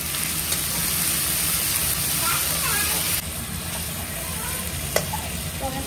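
Ginger-garlic paste frying in a pan and being stirred, giving a steady close hiss of sizzling oil with soft scraping throughout and a brief clink near the end.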